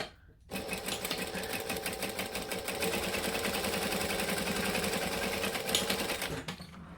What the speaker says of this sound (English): I'm going to do my double top stitching